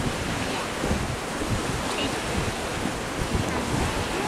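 Strong wind blows outdoors where sausages are being cooked, a steady loud roar buffeting the microphone throughout with no break.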